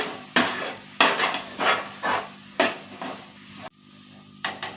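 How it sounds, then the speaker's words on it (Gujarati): Besan batter is stirred in a kadhai for besan bhurji, with a spoon scraping in repeated strokes about a second apart over a soft sizzle, loud and close, with no talking. "તો બેટર થોડું એક બાજુ ચડી જાય એટલે આપણે આ રીતે હલાવી લેશું."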